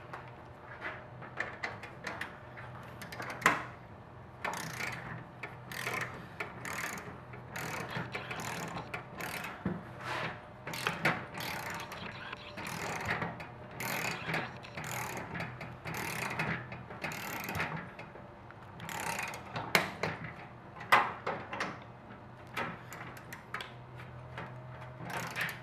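A torque wrench ratchets as it tightens a clamp set to 147 inch-pounds on metal roofing, giving repeated close clicking pawl strokes in an uneven steady rhythm over a quiet background.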